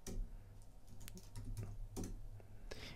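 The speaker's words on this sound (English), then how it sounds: "even though I am typing out these modifiers through code here" Someone types code on a computer keyboard, a quiet run of irregular key clicks and taps at close range with no speech.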